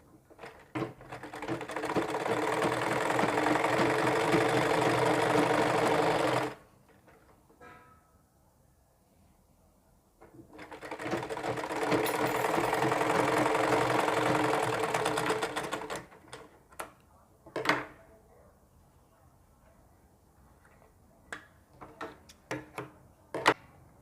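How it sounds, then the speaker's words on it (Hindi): An electric sewing machine runs a basting seam along the centre of a ladies' sleeve in two long, steady bursts of rapid stitching, each about six seconds, followed by quieter handling clicks and taps. "अब इसके हम बीच में कच्ची सिलाई लगाते हैं, सेंटर मिलाते हुए।"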